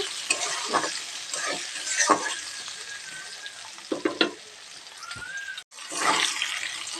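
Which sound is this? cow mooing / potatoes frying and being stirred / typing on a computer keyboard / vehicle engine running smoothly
potatoes frying and being stirred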